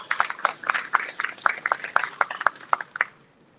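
An audience at a Houston community gathering claps in a fairly steady rhythm of sharp, distinct claps for a guest speaker, close and moderately loud, then tapering off near the end with no talking.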